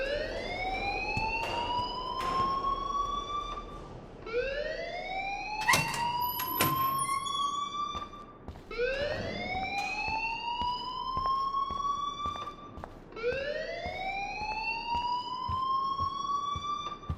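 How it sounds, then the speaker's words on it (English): An alarm in the game Life Is Strange, a rising siren-like wail repeating about every four seconds, loud and continuous, with brief clatter between cycles and no speech. "please turn off that alarm since that's your job"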